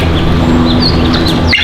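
A northern bald eagle at the San Diego Zoo Safari Park gives a few thin, high chirping calls over a low background rumble, ending with a sharper burst near the end.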